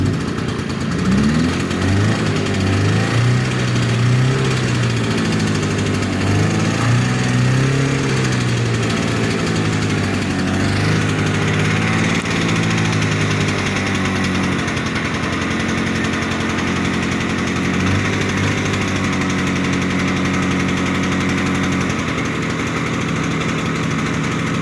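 Small engine of a 1970 Ski-Doo Alpine snowmobile with a choke needing work, starting and then idling: a steady, buzzy two-stroke drone that wavers a little in pitch, close and continuous throughout.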